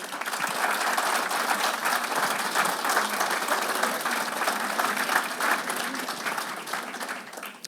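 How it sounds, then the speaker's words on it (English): A seminar audience gives sustained, dense applause after a Sunday lecture, loud and even throughout, with a slight tapering at the very end. "You know what that applause means,"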